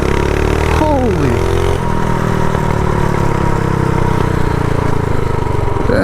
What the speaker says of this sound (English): when I blimped on the throttle, it literally did a rolling burnout